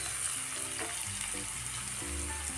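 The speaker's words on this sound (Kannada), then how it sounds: "ನಾನು ಸ್ವಲ್ಪ ಫ್ರೈ ಮಾಡ್ಕೊಂಡಿದ್ದೀನಿ ಈರುಳ್ಳಿ ಮತ್ತು ಕ್ಯಾಪ್ಸಿಕಮನ್ನು." Chopped onion and capsicum frying in a pan, a steady close sizzle running throughout with no talking.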